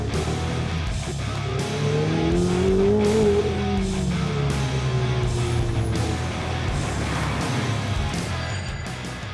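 An Italian supercharged car drives hard with its tires squealing and smoking, a loud close engine roar rising and falling under rippling tire screech that lasts the whole stretch.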